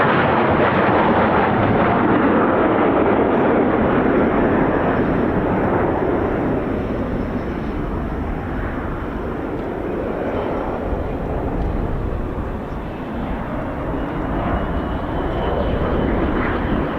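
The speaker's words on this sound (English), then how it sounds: "This is of course Ted's favourite aircraft, the Typhoon, ladies, gents, teddy bears, and what an entrance that was" A Eurofighter Typhoon jet arrives at the RAF Fairford air show, a loud, sustained roar that sweeps past and rumbles on in the distance, with no talking.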